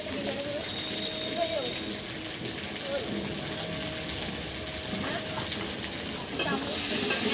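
Ginger-garlic paste, onion, green chilli and salt fry in a pan with a constant close sizzle and occasional utensil scrapes. A faint voice and a few tonal kitchen sounds sit underneath, and a louder rattle comes near the end.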